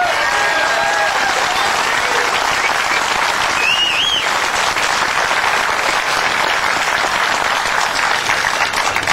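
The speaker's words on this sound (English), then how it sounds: "give him a round of applause for all of you" Sustained audience applause fills a political rally in Powhatan, steady and dense from start to finish, with a brief voice or whistle rising above the clapping partway through.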